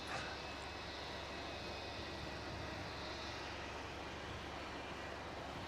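Boeing 737 airliner at Melbourne Airport, a steady, distant jet engine roar that stays at an even level throughout, with no voices over it.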